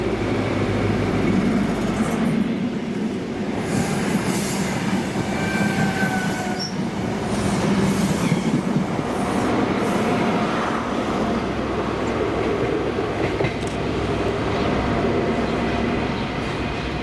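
ScotRail HST passenger train with power cars 43183 and 43028 running through Inverkeithing station on the Aberdeen to Edinburgh service, a loud steady rumble of wheels and carriages with squealing rail and clatter, continuous for the whole stretch.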